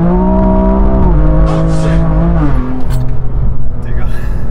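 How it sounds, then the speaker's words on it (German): A 700 PS Manhart BMW M2 Competition on semi-slick tyres spinning its wheels through second gear, loud engine roar climbing in steps with tyre squeal close by, and people talking over it. "Selbst im zweiten Gang komplett Wheelspin."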